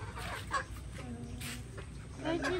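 Chickens on a farm cluck softly while being fed rice, short close clucks scattered through the clip under low background noise and occasional nearby voices.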